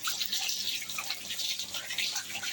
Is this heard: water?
yes